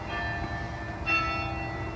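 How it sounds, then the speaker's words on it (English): A school bell rings steadily, a sustained metallic tone that swells slightly halfway through, heard alone over a low background hum. "The bell always rings a minute late"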